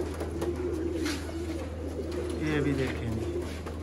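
Sialkoti pigeons coo in soft, repeated throaty phrases close by, heard over a steady background hum while someone speaks briefly.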